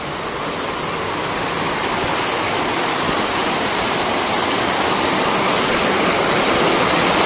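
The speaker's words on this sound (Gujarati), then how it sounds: "કેટલો વરસાદ છે બોલ।" A downpour of heavy rain in a village makes a continuous, loud hiss and roar, close and unbroken for the whole stretch, with no voices over it.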